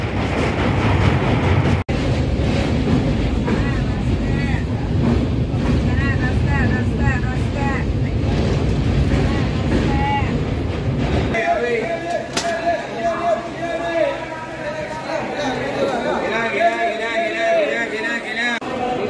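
An Antyodaya Superfast Express train runs on the Chennai to Vijayawada line with a steady, loud rolling rumble and rattle that continues throughout, while voices are heard over the carriage noise.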